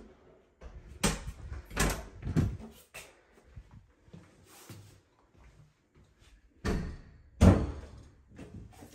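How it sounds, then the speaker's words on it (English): A door in a quad-level house in Grove City, Ohio is handled nearby, with several loud knocks, thuds and creaks in separate bursts separated by quiet pauses. "All right, and there's a door."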